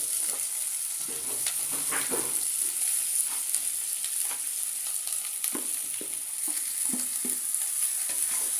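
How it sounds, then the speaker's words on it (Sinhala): Pieces of lake fish frying in a pot of oil tempering, a steady close sizzle with scattered pops and light scrapes of stirring, no voices. "දැන් අපි මේකට එකතු කරගන්නවා අර අපි ටෙම්පරාද වල දාන මාළු ටික."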